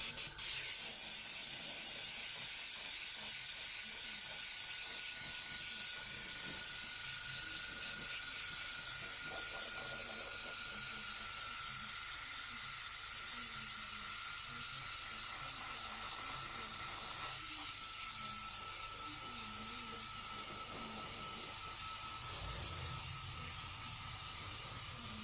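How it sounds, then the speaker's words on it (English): An airbrush sprays liquid mask onto an RC car body shell, giving a continuous close, airy hiss. The hiss holds steady for the full stretch with faint background sounds beneath it. "when you spray the shell, I find that you want to spray it in different directions all the time"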